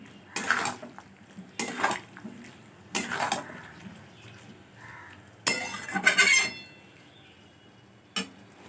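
Metal utensil scraping and stirring marinated ingredients in a cooking pan, heard as four or five short, fairly loud clattering bursts separated by brief pauses, the last a single sharp clink.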